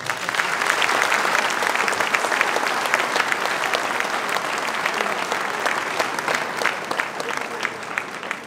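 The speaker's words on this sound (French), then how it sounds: "Vous pouvez l'applaudir." An audience claps steadily through a New Year's greetings ceremony in a town hall in Bessan, a dense, even wash of applause that holds at full strength from start to end.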